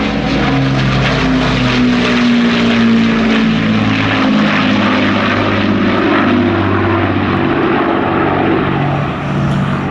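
A four-engined Avro Lancaster bomber with Rolls-Royce Merlin engines drones loudly overhead at an air festival display, its steady propeller roar and throbbing engine tones continuous for the whole stretch with no talk.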